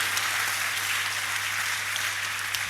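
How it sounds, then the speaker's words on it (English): Audience applause at a student union leader inauguration ceremony, a steady dense wash of clapping throughout with a low electrical hum underneath. "Clap for them one more time."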